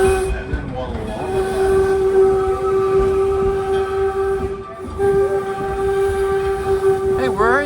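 A steam train horn gives one short blast and then a long sustained one, loud and close. The tone cuts out briefly in the middle and then resumes.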